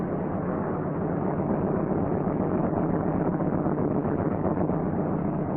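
Piston engines of a C-47 Skytrain warming up at 800 to 1,000 RPM during run-up, a steady, dense low drone and rumble holding constant throughout with no speech.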